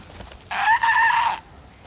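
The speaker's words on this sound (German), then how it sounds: "Hat sich angehört wie ein Huhn." A short synthetic squawking cluck, about a second long, a chicken sound effect from the video game The Forest, sounds once over faint background noise.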